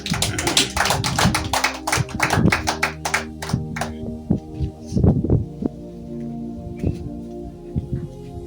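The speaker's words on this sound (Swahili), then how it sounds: "Pigie Bwana Yesu makofi mazuri." Church congregation clapping for Jesus during a Swahili sermon, a dense burst of many hands at first that thins into scattered claps, with a sustained musical hum underneath.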